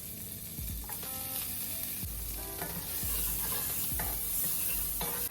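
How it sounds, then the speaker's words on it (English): Onion and green peppers sizzle in melted butter in a pan, with a steady frying hiss broken by repeated scraping stirs of a utensil, close and clear, no voices. "Once your veggies have sauteed a little bit and your onions are translucent"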